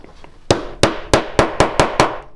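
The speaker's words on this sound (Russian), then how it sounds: "и мы его просто забиваем молоточком." Seven sharp, evenly spaced taps of a small hammer driving a 3 mm eyelet into a board during point-to-point tube amplifier assembly, close and loud with a faint softer knock before.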